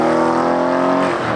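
An 800 horsepower Audi RS7 sports sedan's engine holds a loud, close, rich droning note that eases off near the end, with no talk over it.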